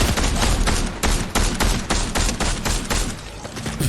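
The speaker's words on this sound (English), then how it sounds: "there's someone shooting at me" Rapid gunfire in an online shooter video game, a loud, dense burst of repeated shots filling the whole stretch without letting up.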